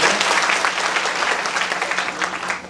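An audience claps to welcome a guest at a community gathering in a village, a dense, steady round of applause that stays loud throughout and tapers slightly at the end.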